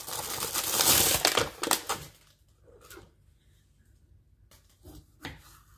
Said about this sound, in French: je vais rajouter la moitié d'un concombre à l'intérieur. Quelques tomates que je vais couper.